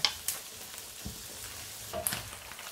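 Fresh shrimp heads fry in oil, giving a soft, steady sizzle with faint bubbling and a few light taps and clinks close by.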